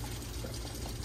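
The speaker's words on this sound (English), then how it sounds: "we put a little pump in so they get some oxygen" A small pump running in a little koi pond, giving a continuous bubbling, splashing water sound, close and steady for a brief moment.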